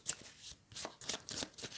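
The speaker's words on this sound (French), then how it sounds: "Donc je vais remélanger." Playing cards being shuffled during a tabletop game, several quick riffling bursts in close succession, crisp and near.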